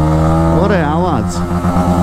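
A Honda ExMotion motorcycle with a DOHC engine revs up and back down once, a close, loud, rising and falling engine whine over a steady idle.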